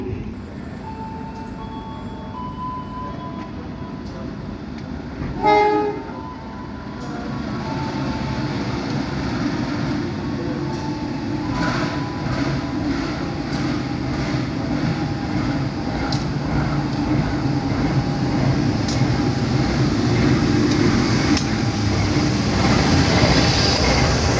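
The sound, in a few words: Tawang Alun train arriving at Pasuruan station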